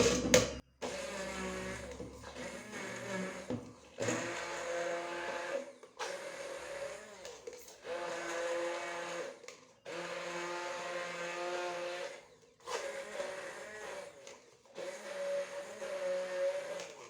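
Blender running in bursts to mix gluten-free, dairy-free pie batter, a loud motor whine that starts and stops repeatedly for about a dozen seconds with short pauses between pulses.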